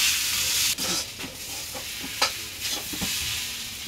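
Ludus frying in a pan as it is stirred with a utensil: steady loud sizzling close up, broken by a few scraping, knocking stirs, with no talking.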